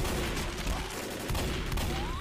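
Automatic gunfire from the co-op zombie shooter Left 4 Dead on the Crash Course campaign rattles in continuous, dense bursts, steady and fairly loud with no breaks.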